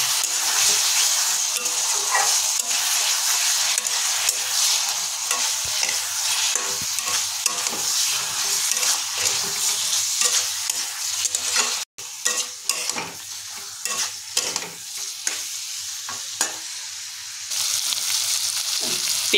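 Potatoes frying over a low flame with ground chilli, turmeric, cumin and coriander, a steady close sizzle with repeated scraping stirs throughout and a brief gap near the middle.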